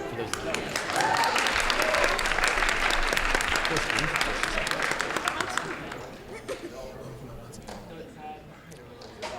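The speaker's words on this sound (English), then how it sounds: "Applause." Audience applause at a high school Jeopardy event, a loud crowd clapping steadily for about six seconds before thinning out into scattered claps and murmuring voices.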